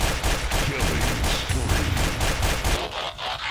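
Rapid, continuous automatic gunfire from Counter-Strike: Source, with dense overlapping shots throughout and a brief thinning near the end, loud and close, with no talk.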